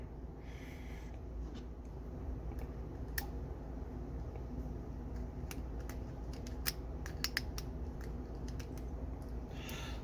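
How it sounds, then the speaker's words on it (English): A torque wrench gives a few sharp, faint clicks scattered over a quiet, steady background, each click short and isolated and heard up close. "There's our clicking sound."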